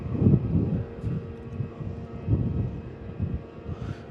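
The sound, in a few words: Philippine Airlines Airbus A330 taxiing at Melbourne Airport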